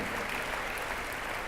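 A gathered church audience claps in a steady, dense wash of applause, loud and continuous with no voices on top.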